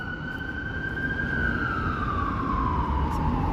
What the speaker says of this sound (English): Kind of a busy night with ambulances going out on calls.